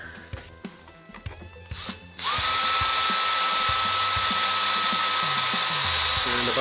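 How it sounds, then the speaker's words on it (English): A power drill bores holes into a cosplay blaster prop replica from Stargate Atlantis, starting after a couple of seconds of handling clatter and then running as a loud, steady, high whine to the end. "I need to get my drill out because I need to drill a couple of holes"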